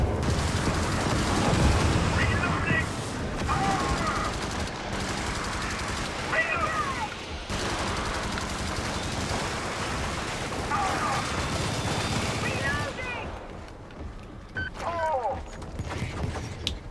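Sustained gunfire and explosions from a sci-fi shooter game against armored bug enemies on high difficulty, including a commando launcher, form a dense continuous barrage with talk over it throughout.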